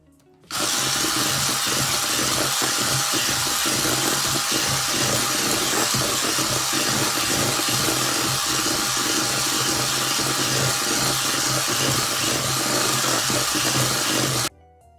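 Electric hand mixer beating eggs one at a time into cheesecake batter made with sugar; a steady, loud motor whir runs without pause for about fourteen seconds, with faint rattling from the beaters in the bowl.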